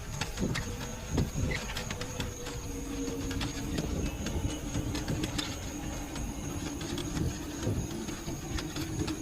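Crickets chirp at night in a cartoon scene, a steady run of rapid, rhythmic insect pulses heard moderately close against a soft background hum, with no talking.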